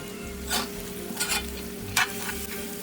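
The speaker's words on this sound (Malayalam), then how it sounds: "എല്ലാം കൂടെ നല്ലതുപോലെ ഇളക്കി യോജിപ്പിക്കാം" Mutton curry in a pan, thickened with pepper powder and garam masala, stirred with a spoon in three scraping bursts over a steady low sizzle, close and fairly quiet with no talking.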